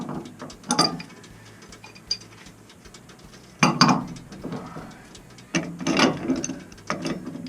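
Metal wrenches, a pair of 14-inch ones, crank a plumbing fitting on a Navien combi boiler. A few sharp, ratchety clicks and grinding creaks come in bursts with quiet pauses between them, close and moderately loud.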